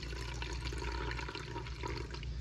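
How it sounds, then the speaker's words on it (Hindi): Water is poured into a peppered sauce for chicken chilli, with a steady, close splashing pour filling the short moment without any talk. "इसमें मैं डालूँगी पानी।"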